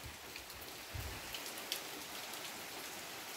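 Steady rain shower falling outdoors near a chalet, a dense even hiss of drops on surfaces with a few brief louder patters, no voices.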